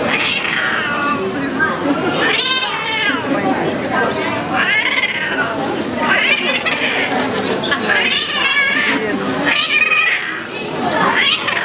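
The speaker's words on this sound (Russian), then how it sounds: "Самая громкая кошка выставки, самая громкая бенгальская кошка." A Bengal cat meows loudly and repeatedly in long, drawn-out wails at a cat show, with a murmuring crowd in the background.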